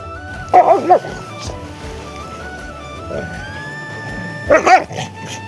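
A playing dog gives two short bursts of yipping barks a few seconds apart, close by, over a steady engine hum and scattered background noise.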